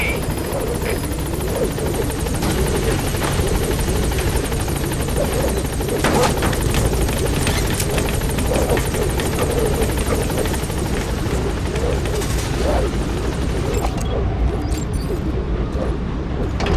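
The Pequod helicopter arrives in Metal Gear Solid 5: The Phantom Pain, its rotor giving a loud, continuous chopping thrum that stays close and steady throughout, with radio chatter faintly over the noise.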